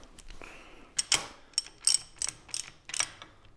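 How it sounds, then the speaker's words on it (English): Ratcheting clicks from a wrench tightening bolts on a fabricated Harley-Davidson Sportster headlight bracket and riser, a quick series of six or seven sharp, close mechanical bursts with short pauses between. "Put our bolt back up through. Threaded back into the riser. And now we'll tighten everything down."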